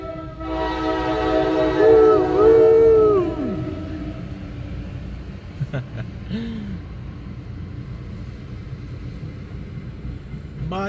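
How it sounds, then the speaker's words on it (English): A train's deep horn sounds in long sustained blasts, then fades as the rumbling train passes nearby with clattering, steady noise. "Bye bye train."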